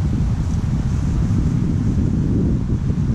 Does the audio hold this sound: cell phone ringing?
no